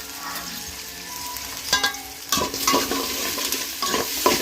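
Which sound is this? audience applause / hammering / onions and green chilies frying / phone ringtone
onions and green chilies frying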